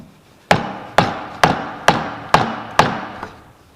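A Scandi-grind belt knife chops into wood with six sharp, evenly spaced thwacks about half a second apart, each a loud close impact with a short ringing decay, and no one speaks.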